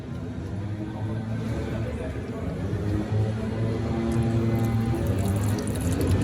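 Honda transmission fluid drains for a second time from the gearbox during a judder fix, a steady trickling pour running continuously under a person talking.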